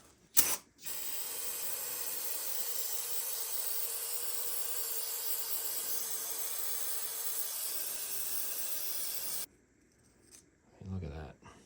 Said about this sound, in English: Get some brake cleaner.